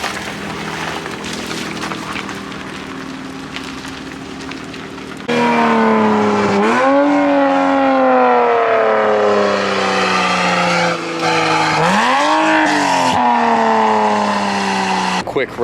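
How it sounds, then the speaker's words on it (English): Toyota Supra with a catless downpipe idling roughly, then revved hard twice, the exhaust note rising and falling loudly in close range with a raspy, crackling edge. "Quick revs of the Supra."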